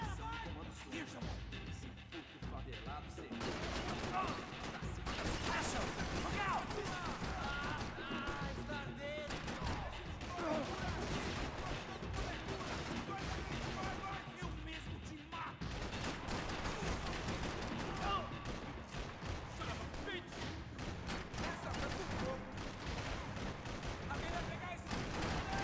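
Dense, continuous gunfire and crashing impacts fill a Max Payne 3 PC shootout, with bursts and single shots layered throughout and voices talking over the action.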